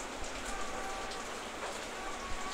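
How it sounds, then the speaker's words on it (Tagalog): Steady rain falls without pause as a dense, even hiss of drops hitting a surface, close and moderately loud, with no one speaking. "Maulan kaunti. Tuloy-tuloy ang ulan."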